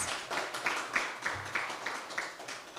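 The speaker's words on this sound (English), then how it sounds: "A round of applause again for him" An audience applauds a speaker, Bishop King, at the launch of a youth mentoring program, the clapping a steady, even patter of many hands at a moderate distance with no talk over it.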